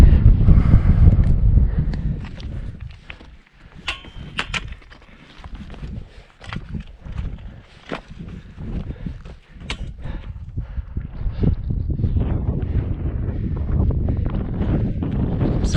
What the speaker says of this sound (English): It's starting to get pretty windy.